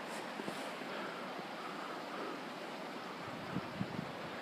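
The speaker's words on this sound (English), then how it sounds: "I'm sure you can hear it rushing through the trees, the wind." Steady wind rushes through trees along the Sawtooth Canyon trail above a creek, a broad continuous whoosh filling the clip at moderate level, with a few faint knocks near the end and no talking.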